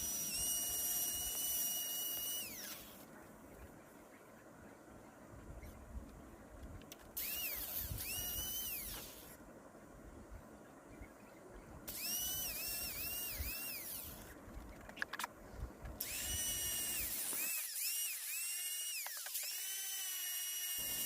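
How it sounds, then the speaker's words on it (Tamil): A handheld grinder works along the sides of a cricket bat under refurbishment, a high whining buzz in several long bursts separated by brief pauses, close and steady. "சைட்லேயும் கிரைண்டிங் பண்ணி விட்ருங்க."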